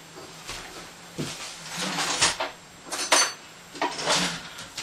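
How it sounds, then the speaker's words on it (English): Small fork scraping and clinking against a dish while mixing dye colors for hand-painting yarn, bursts of close metallic taps and scrapes separated by short pauses. "I like to use a little fork to mix the colors"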